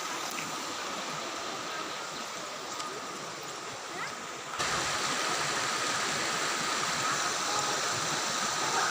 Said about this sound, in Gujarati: તળાવમાંથી જે દરવાજા ખુલ્લે ને ત્યાંથી પાણી આવે છે